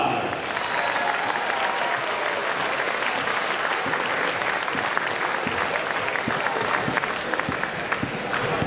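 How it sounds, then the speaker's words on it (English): A crowd at a college men's basketball game, Saint Martin's versus Simon Fraser, applauds steadily throughout, a dense, even clatter of clapping from a distance with a faint crowd murmur underneath. "Let's give a big round of applause."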